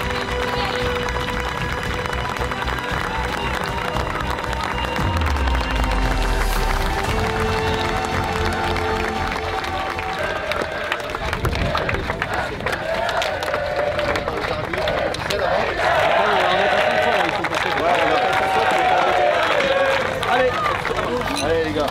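A crowd at a football cup final applauds and cheers the players, with steady clapping and shouting throughout and voices talking and calling out over it.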